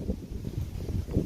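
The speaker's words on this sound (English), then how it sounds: "Sorry about the wind." Low, buffeting rumble of wind hitting a microphone, gusting unevenly throughout the short moment.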